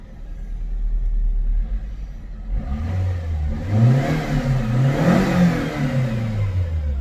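After a low idle, a Toyota Starlet GT Turbo's small engine revs up several times in quick succession, its pitch climbing and falling, close and fairly loud.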